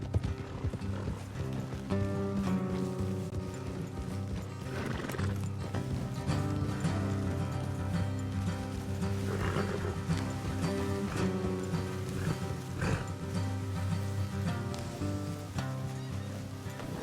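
Steady clip-clopping of horse hooves in Red Dead Redemption 2 over continuous background music, with an occasional faint whinny.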